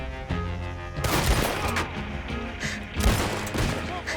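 Heavy gunfire in Red Dead Redemption 2: a burst of loud, booming shots around the one-second mark, then another sharp blast near the three-second mark over a dense rumbling game background.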